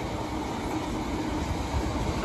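A long freight train of empty wagons crosses an iron railway viaduct in Nottinghamshire, producing a steady, moderately loud rolling rumble with no breaks and no talking.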